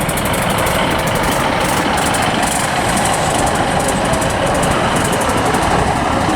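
East Midlands Trains diesel unit 156473 pulls into Grantham station on the Skegness to Nottingham service, a loud, steady engine rumble with broadband rail noise filling the whole stretch.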